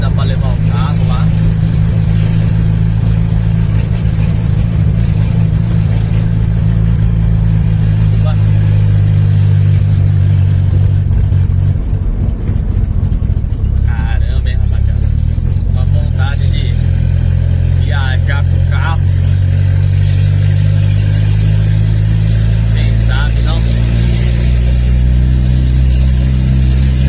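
A turbocharged car engine rumbles with a steady low roar close by for nearly half a minute, swelling and easing through several revs while voices talk over it.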